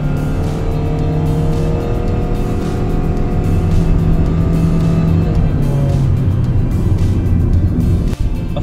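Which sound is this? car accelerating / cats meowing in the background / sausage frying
car accelerating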